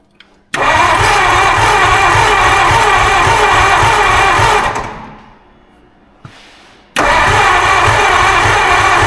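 A 1952 Ford Crestline engine, low on compression, cranks loudly and steadily for several seconds and then stops. A brief click follows a short pause before a second loud burst of cranking. Close and alone, with no talk.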